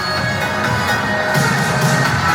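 Football fans in a K League stadium during a Daegu FC versus Jeju SK match roar and cheer, a broad sustained crowd noise with distant shouting and no clear gaps.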